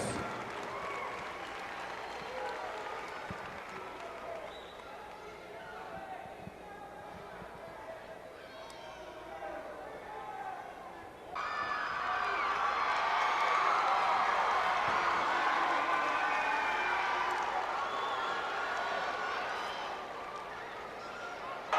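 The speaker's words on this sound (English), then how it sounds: "Let's have a big round of applause for Joel Watts" A crowd applauds at a 1986 UWF professional wrestling event held in a state capitol building, a steady wash of clapping and murmuring that swells louder partway through, with an announcer's voice over the top.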